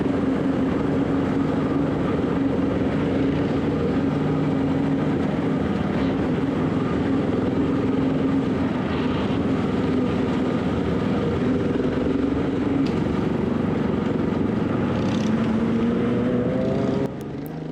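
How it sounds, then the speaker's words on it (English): Custom-built car powered by a Kawasaki Ninja street bike engine, driving at an outdoor mini car event; a loud, steady motorbike-style engine drone runs throughout, its pitch climbing near the end, with no talking. "It's got a motorbike engine in it out of a street bike, a Ninja"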